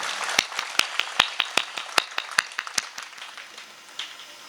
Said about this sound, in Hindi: इस संयोग के लिए आप लोगों की तालियां उठनी चाहिए एक बार।